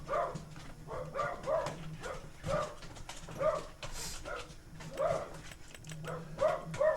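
Dogs in the Farming Simulator video game give a scattered run of short yips and small barks, some whimpery, over a faint low hum, at moderate distance with no talking.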